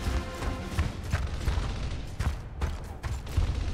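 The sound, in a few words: gunfire from an NPC shooting in Gears of War video game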